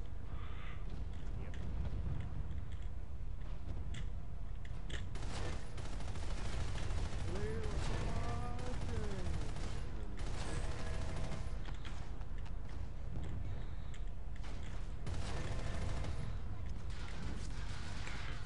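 Rapid automatic gunfire and scattered shots in the online shooter Planetside, sustained bursts over a low rumble, with a voice talking over the action at times.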